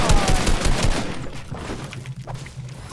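Rapid gunfire from a Fortnite-style video game boxfight, a loud dense burst of shots up front that thins into scattered, quieter reports.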